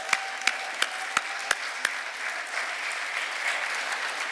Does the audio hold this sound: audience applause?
yes